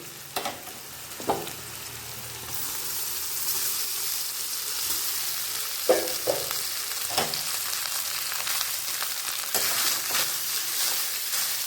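Rice and cauliflower frying in a pan make a steady, close sizzle, with scraping, knocking stirs at irregular moments and no talk.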